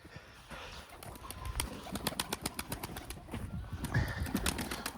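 Pigeons coo repeatedly at close range, soft throaty calls overlapping in a steady rhythm with some faint background noise.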